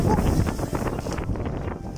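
Strong typhoon wind roars and buffets the microphone in a constant loud rush, with a faint rustle mixed in.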